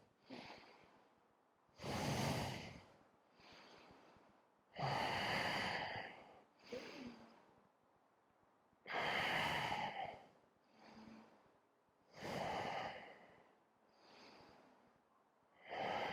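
Slow, deep breaths drawn in and let out during a yoga bridge pose, about six full cycles with the exhales louder and rushing, close to the listener and alone, with no talk.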